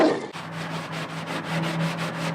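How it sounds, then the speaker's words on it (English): A brush scrubs caked dirt off plastic car fender liners in steady, rhythmic back-and-forth strokes, a close, gritty rasping with no talking. "Just wanna scrub it down, make sure we loosen up all that dirt."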